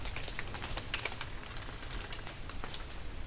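Acorns dropping from white oak trees in Missouri woodland, scattered light ticks and patters landing irregularly on leaf litter, like soft rain on dry ground, with no voices.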